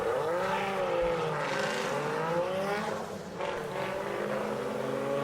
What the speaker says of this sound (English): Austin Bates is going to be our lead car there in that sideways Sheriff Mustang, with Sloan giving chase in that blue 240.